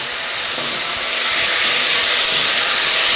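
Loud, steady sizzling hiss as beef is tossed in a hot pot, a broad crackling rush with faint clanking of the pan underneath.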